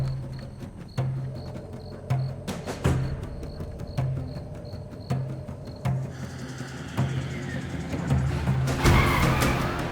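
A car skids and its tyres squeal as it brakes to a stop during a police unit's drive, loud and close, with engine rumble running under the whole stretch and a harsher burst of noise near the end.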